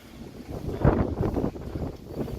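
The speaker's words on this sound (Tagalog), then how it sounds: "Medyo mahangin-hangin ang konti, oh." Outdoor wind near Mayon Volcano gusting against the microphone, a steady rough rumble swelling and easing for a couple of seconds with no talking.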